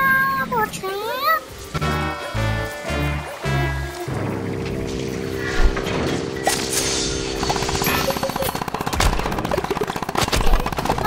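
Rapid bursts of gunfire ring out in Plants vs. Zombies: Battle for Neighborville, a few punchy volleys followed by lighter crackling shots and game effects, with a player talking over the action.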